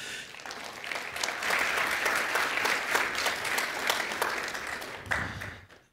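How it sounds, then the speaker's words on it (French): Steady applause from a conference audience for panelists, building quickly and holding for several seconds before tapering off at the end. "je vous demanderai de donner une bonne main d'applaudissement à nos panélistes"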